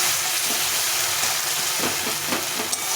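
Whole spice masala cooking down in a pan for a fish curry, a dense, loud, continuous sizzle with a few faint scrapes of stirring near the end.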